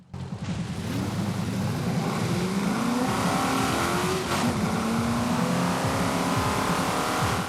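An MG X-Power SV-R with a stock four-gear automatic drives in Forza Horizon 5. Its loud, steady engine drone holds throughout, with shifting tones as it gains speed.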